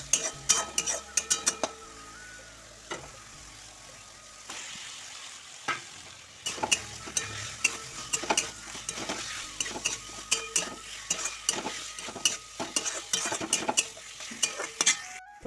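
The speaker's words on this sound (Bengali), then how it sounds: "তাই জন্য সব মশলাগুলোকে ভালো করে কষিয়ে নিচ্ছি" Spices fry in a pan with onion, garlic and ginger for a pangas fish dish, sizzling steadily while a spoon scrapes and clatters against the pan in quick, repeated strokes, close and fairly quiet.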